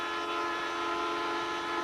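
Transcontinental train bound for Montreal on a Canadian main line, heard as a steady, dense rumble with sustained tonal whine or horn-like drone throughout, no voices.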